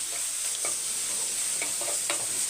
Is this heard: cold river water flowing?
no